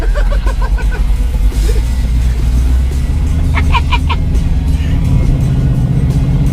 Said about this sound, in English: It's a big block. That's why it sounds so good.